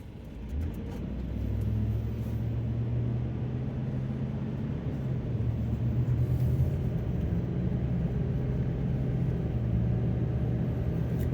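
A 2004 Dodge Ram 1500 pickup with a 287 V8 and a cold air intake cruising on the road, a steady low cabin drone with a constant engine hum that builds slightly midway, no one talking.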